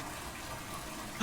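A toilet flushing in the video game Soma gives a steady gushing rush of water, moderately loud and continuous, with a sudden louder bump right at the end.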